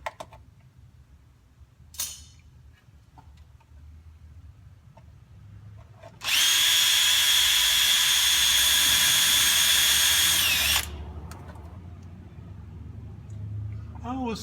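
An electric drill bores a hole through sheet metal for an airplane build, a loud steady high-pitched whine lasting about four seconds at close range, with quieter workshop handling noise before and after.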